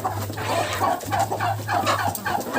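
A broody naked-neck hen clucks in a run of soft, close, repeated calls, steady and rhythmic over a faint low hum, with no voices.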